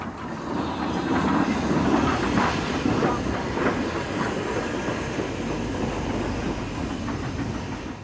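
An LNER N2 class steam tank locomotive chuffs steadily past on the Great Central Railway with rhythmic exhaust beats and clattering wheels over a constant rumble, fairly close and loud throughout.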